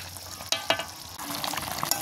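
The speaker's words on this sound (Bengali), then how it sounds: "এবার 5 মিনিটের মতো ফুটিয়ে নেবো, নিয়ে তারপরে নামাবো" Snakehead fish with raw mango cooks in a pan, giving a close, steady sizzle and bubbling with a few sharp scraping stirs near the middle. No talk.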